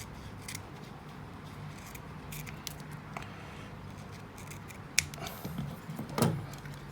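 Scissors snip material for a cheap homemade kids' arrow, a few soft, close cuts and crinkles over a steady low hum, with a louder scrape near the end.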